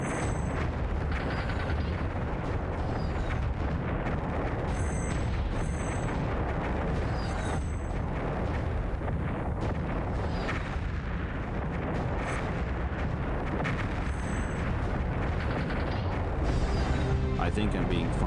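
Enemy gunfire in the air-combat game Stratosphere: Conquest of the Skies, dense rumbling bursts and booms layered over constant engine noise, with someone talking over the action.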